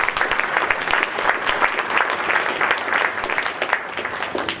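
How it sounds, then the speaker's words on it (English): Audience applause for graduating senior athletes at a school athletic breakfast, a steady, dense roar of clapping that holds evenly and fairly loud from start to end with no talk over it. "So let's give them a round of applause."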